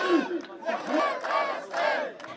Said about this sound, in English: the Moroccan crowd sang slogans against the rapprochement between Morocco and the Zionist entity